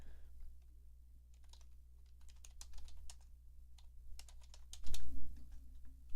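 Fast irregular clicking of keys on a computer keyboard, close and crisp in bursts over a low steady hum, with a louder flurry of keystrokes near the end.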